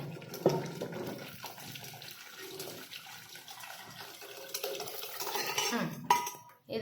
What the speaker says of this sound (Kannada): ಈಗ ನಾನು ಇದ್ರೊಳಗೆ ಇದು ಕುಕ್ಕರ್ ಒಳಗಿಂದ ನೀರು ಹಾಕ್ಕೊತೇನೆ